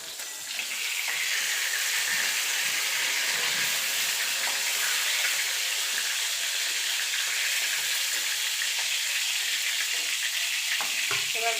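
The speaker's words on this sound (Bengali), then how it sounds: "পটলগুলো এপিট ওপিট করে লাল লাল করে ভেজে নেব।" Pointed gourd fries in oil in a pan, a loud, continuous close sizzle that starts after a brief quiet moment and holds evenly, with faint clinks near the end and no talking.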